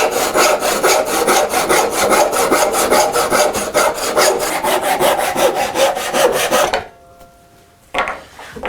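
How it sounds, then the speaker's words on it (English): A file rasps quickly back and forth across a homemade chip breaker screwdriver to take off a burr, with loud, close, evenly rhythmic strokes for about seven seconds, then a brief pause and one more short scrape. "Let me get this burr off though."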